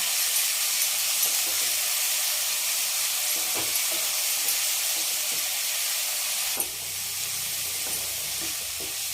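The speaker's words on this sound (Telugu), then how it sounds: "అల్లం వెల్లిపాయ పేస్ట్ వేసుకున్నాం కదా, చక్కగా వేగింది" Ginger garlic paste fries in oil for a pulao and potato kurma, with a dense, even sizzle and hiss up close that holds steady throughout, softening slightly near the end after a brief clink.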